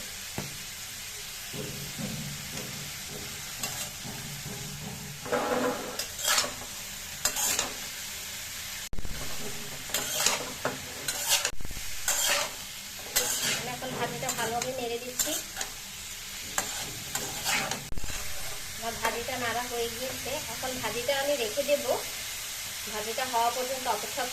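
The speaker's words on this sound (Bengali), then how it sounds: "ভাজিটা ভালোভাবে নেড়ে দিব" Vegetable fry being stirred in a pan, with repeated scraping strokes of a utensil over a steady background sizzle, close and moderately loud.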